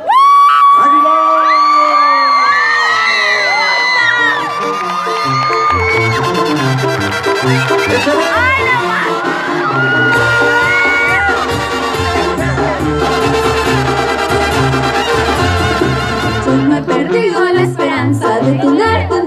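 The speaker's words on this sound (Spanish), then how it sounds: "con un fuerte aplauso de Tayagua, recibamos" A concert crowd cheers, whoops and yells as a singer comes on stage for a banda show, loud and continuous throughout, with music and high shouts layered on top.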